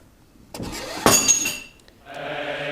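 A metallic clunk and rattling clink as a boat anchor releases from a Low Profile Anchor Wizard, followed by a low mechanical hum.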